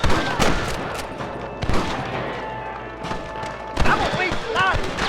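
Gunfire in the Western shooter game Red Dead Redemption, a rapid scatter of sharp shots and thuds over a few seconds, with characters shouting between the bursts.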